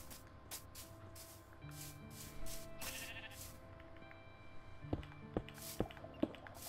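Sheep bleats in Minecraft gameplay, several short, faint, repeated bleats over a low game ambience with sustained tones, followed by a few sharp clicks near the end.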